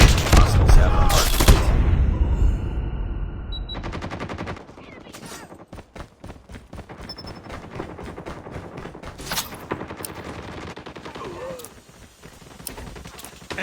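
The mythic Grau rifle in a Call of Duty free-for-all and hardpoint match, a loud burst of rapid automatic fire followed by scattered shots and game effects, with no talking.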